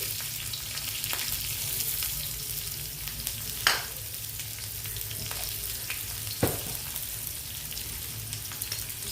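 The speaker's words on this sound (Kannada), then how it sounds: "ಜೀರಿಗೆ ಚಟಪಟ ಆದಮೇಲೆ ಬೆಳ್ಳುಳ್ಳಿ ಹಾಕ್ಕೊಳ್ಳೋಣ. ಜಜ್ಜಿದ ಬೆಳ್ಳುಳ್ಳಿ ಹಾಕೋಬೇಕು" Crushed garlic and cumin seeds fry in oil in a pan for a North Karnataka-style palya, giving a continuous close sizzle with occasional sharp pops and sputters.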